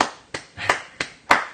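Four sharp hand claps ring out, unevenly spaced, close and crisp, from one person applauding alone.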